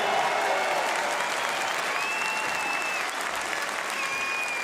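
Sustained audience applause at a political rally, dense and steady clapping from a crowd throughout, with faint whistles rising above it.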